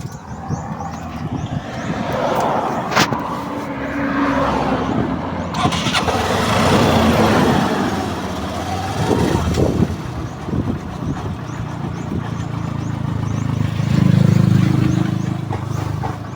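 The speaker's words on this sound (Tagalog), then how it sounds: "Lalapit ko na yung tricycle ko" Motorized tricycle engine starts with a sharp catch, then runs with a rough, fluctuating rumble and revving, close and loud, swelling again toward the end.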